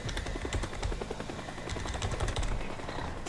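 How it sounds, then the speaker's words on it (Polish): A helicopter flies overhead in the video game Teardown, giving a steady, rumbling rotor drone that runs loud and continuous throughout, with sharp rapid clicks and bursts layered over it. "Helikopter się jak zawsze na nas patrzy,"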